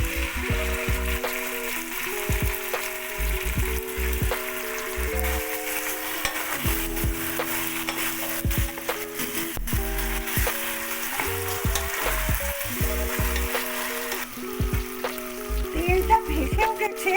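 Chopped onion and spice-marinated chicken frying in oil, a steady close sizzle broken by intermittent stirring and scraping clatter, no voices.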